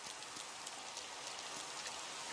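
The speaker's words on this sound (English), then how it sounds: "rainy, which is not fun in Minecraft" Soft, continuous rainfall in Minecraft, a faint, even hiss of drops with occasional light ticks, steady and distant-sounding with no talking.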